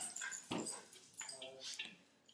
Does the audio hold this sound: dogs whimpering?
yes